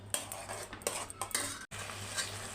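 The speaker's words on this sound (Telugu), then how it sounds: "ఇది బాగా కలిపి దగ్గర అయినంత వరకు వేగాలి" A palak rice mixture is stirred and fried in a pan. A spoon scrapes and clinks against the metal in quick, irregular strokes over a low sizzle, close up and with no talking.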